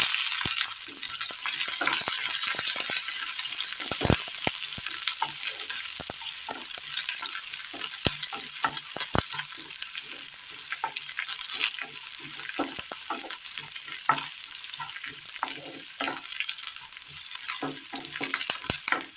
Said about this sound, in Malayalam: കടുക് പൊട്ടിയതിന് ശേഷം ചെറിയുള്ളി അരിഞ്ഞത് ഇട്ട് കൊടുക്കാം.